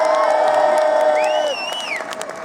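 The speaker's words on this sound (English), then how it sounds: "Let's give a cheer to Plymouth and the rally." Demonstrators at a Sheffield rally shout a loud collective cheer, massed voices held briefly, a rising whoop over the top, then easing with light clapping.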